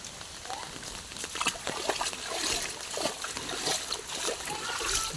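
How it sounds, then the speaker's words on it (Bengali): Floodwater pours and splashes continuously into flooded village fields during a flood, sounding as a steady, broad rushing wash with scattered splatters, close and fairly loud throughout. "ওই যে পানি, কত পানি পড়ছে।"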